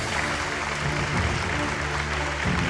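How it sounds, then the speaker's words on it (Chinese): A studio audience at a televised archaeology lecture applauds to welcome a Tsinghua University professor, a loud, even burst of many hands clapping that stays steady from start to finish. "掌声欢迎。"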